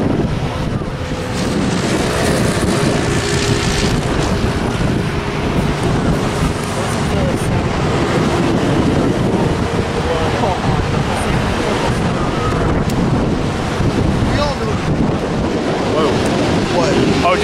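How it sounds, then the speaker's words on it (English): Strong wind buffets the microphone in a continuous loud rumbling roar while plane spotting at LAX, with faint speech fragments and distant background noise underneath. "Oh, just how windy it is."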